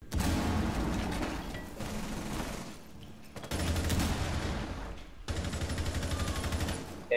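Gunfire shoots through a wall in the Rainbow Six Siege video game, loud rapid automatic bursts in three long volleys separated by brief breaks.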